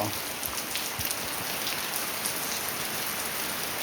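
Steady morning rain falling and pattering on surfaces outdoors, a dense even hiss with scattered close drips throughout, with no voices.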